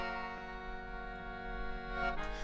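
Melodica chords pitched down an octave and blended with the upper octave, giving a thick, sustained reedy drone that holds steady with a slight shift near the end, quiet and unaccompanied.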